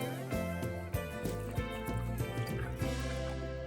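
Water poured over dry fruits to soak them, a steady close pour with liquid splashing and trickling for a few seconds, no talk.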